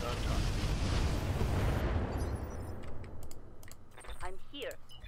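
Mech weapons in the Roguetech battle game fire in a heavy, roaring barrage that dominates the first two seconds. Missile launches and impacts then fade into sharper intermittent bursts, with voices speaking underneath.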